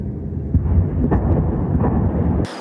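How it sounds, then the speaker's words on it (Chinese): Bombing in the Gaza war: deep, rumbling explosive booms and a continuous low roar filling the clip, loud and close, ending with a sudden sharp burst of noise. "还有日夜的轮番轰炸"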